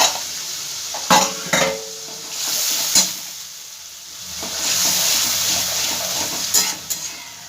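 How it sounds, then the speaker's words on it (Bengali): Spice masala with tomato paste and ginger paste fries in a pan, sizzling steadily while a spoon stirs and scrapes with several sharp knocks against the pan. Loud and close, with no voices. "একটু এই মশলাটাকে আমি আগে ভেজে নেব, তারপরে আমি গুঁড়ো মশলাটা দেব।"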